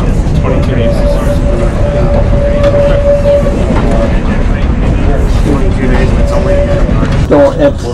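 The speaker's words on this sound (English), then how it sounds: "That's a long string of trains." Loud continuous rumble and rattle of a long freight train rolling past Forest Park Station, with steady clanking wheels and people talking over it.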